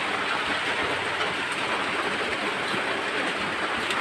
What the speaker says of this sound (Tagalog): Ay, nabutan na naman ang ulan.